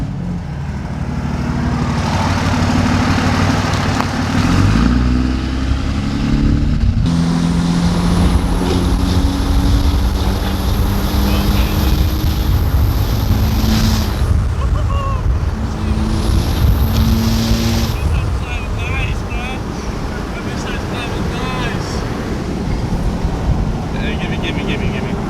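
A third-generation Cummins diesel pickup truck pulls under load, its low engine drone rising steadily through gears amid heavy wind and road rumble, loud and close inside the cab, with brief speech over it.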